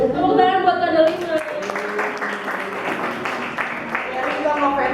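Applause for someone in an Indonesian classroom, a patter of clapping mixed with voices and cheering from pupils, lively and fairly close for several seconds.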